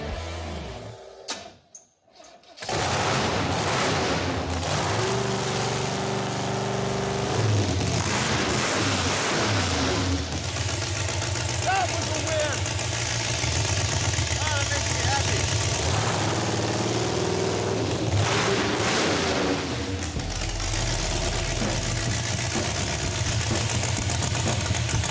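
A 1950 Ford F6 dump truck engine fires after a brief quiet and runs at a rough, steady idle for the rest of the stretch, loud and close, with some voices speaking over it.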